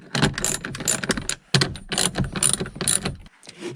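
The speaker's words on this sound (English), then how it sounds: "use a 15mm socket to remove these two bolts" A ratchet with a 15mm socket loosens bolts on a Ford F150, giving rapid, close clicking bursts in two long runs separated by a brief pause, loud and with no talk.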